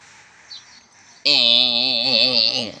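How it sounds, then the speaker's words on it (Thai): After a quiet, hissy start, a repaired M39 horn loudspeaker abruptly bursts into a loud, shrill siren tone. A wavering, warbling lower note that resembles a voice sustains alongside it before it tapers at the end. "ซึ่งเสียงแมงซอนเป็นความถี่เดียว"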